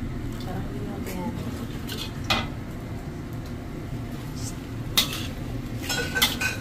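Choi sum with garlic is stir-fried in a little cooking oil and stirred in a pan, with a few sharp metallic clinks of utensil on pan over a faint, steady background.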